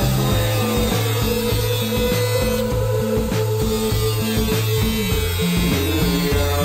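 A power tool with a large cutting disc slices through the steel fender of a 5th-gen Toyota 4Runner for a snorkel install, giving a loud, continuous grinding whine with a stuttering, shifting pitch, close up and without talking.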